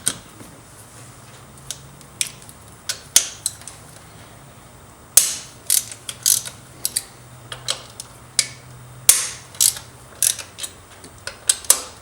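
A hand ratchet turning a 13mm socket to remove an A/C part on a 2001 Dodge Ram 1500, giving crisp, close clicking in irregular bursts with short pauses between runs, alone without talk.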